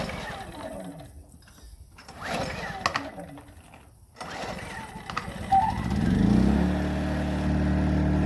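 A propane-fueled suitcase generator is handled with rustling and knocks, then cranks, catches and settles into a steady, loud engine hum that runs to the end.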